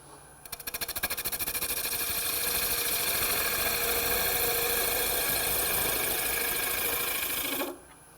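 A wood turning tool cuts a water dipper on a lathe, producing a steady, close, rhythmic whirring scrape that builds in the first second, holds evenly, then stops abruptly.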